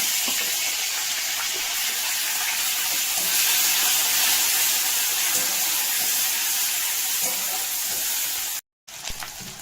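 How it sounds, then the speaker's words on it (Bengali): Dried shrimp frying in white oil with five-spice, bay leaf and dried red chillies in a kadai, a steady loud sizzling hiss throughout with one brief dropout near the end. "কড়াতে দিলাম সাদা তেল, 5 ফোড়ন, তেজপাতা আর শুকনো লঙ্কা। এবার দেবো শুকনো চিংড়ি।"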